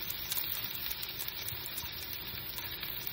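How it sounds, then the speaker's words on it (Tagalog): Chopped onion and garlic hit a hot pan of sesame oil for spam fried rice, giving a steady, close, crackling sizzle with no talk. "ilagay ko na pareho yung sibuyas at saka bawang"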